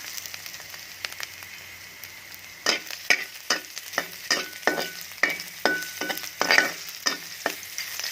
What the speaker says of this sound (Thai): ร้อนแล้วเราก็จะใส่เห็ดหอมลงไปทอดกันเลยนะคะ